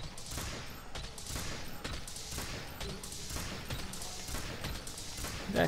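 Rapid heavy bowgun fire with Pierce Ammo 1 in Monster Hunter World: Iceborne, a steady run of loud, dense shots with no pauses, continuous over several seconds.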